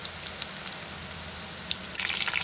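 Gola kebabs frying in oil over a low flame, giving a steady soft sizzle with scattered crackles and pops that grow a little busier toward the end, with no voices.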